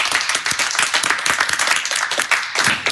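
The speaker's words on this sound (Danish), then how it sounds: "Endnu en gang en kæmpe stor klapsalve" An audience bursts into lively applause for the winner of a brand-new kitchen in a contest final, with dense continuous clapping and scattered sharper claps for three seconds.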